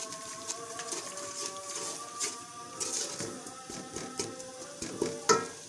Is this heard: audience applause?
no